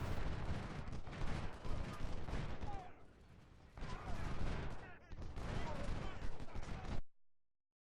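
Massed musket and artillery volleys in the Civil War strategy game Ultimate General: Civil War, loud rolling fusillades in two long waves with a brief lull between them, fading out at the end.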